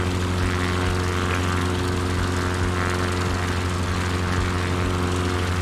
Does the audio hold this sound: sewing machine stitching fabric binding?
no